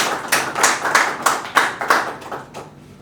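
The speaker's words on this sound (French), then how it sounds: "Est-ce qu'on peut applaudir, s'il vous plaît?" A small gospel-show audience claps in a handful of separate, loud bursts, roughly eight spaced hand claps or short clusters that thin out toward the end, with no talk over them.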